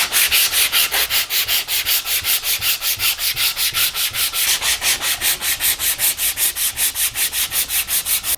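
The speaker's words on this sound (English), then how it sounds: "We just want to kiss it with our sandpaper" Sandpaper rubbing along a carved maple guitar neck at the fretboard edge, a steady rhythmic back-and-forth scrape of even strokes, close and loud, with no voices.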